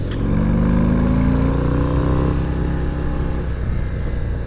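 A Harley-Davidson Road Glide ST motorcycle engine drones steadily while being ridden, a loud close low rumble with a rising pitch that holds across the stretch, with no talking over it.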